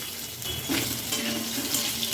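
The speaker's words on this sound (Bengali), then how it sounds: "কাঁচা লঙ্কা, তেজপাতা, সাদা জিরে ফোড়নে দিয়ে দিচ্ছি আলু" Potatoes hitting a hot tempering of green chilli, bay leaf and white cumin seeds in a pan, giving a continuous loud sizzle with a few stirring scrapes, no voices.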